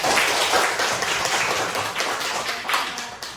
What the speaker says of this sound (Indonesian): Kasih tepuk tangan dulu untuk teman.